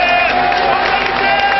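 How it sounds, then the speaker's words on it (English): A stadium crowd at the 2000 African Nations Cup Final between Nigeria and Cameroon keeps up a steady, broad roar of cheering for Sunday Elise, sounding slightly muffled as if heard through a broadcast. "There's a cheer for Sunday Elise"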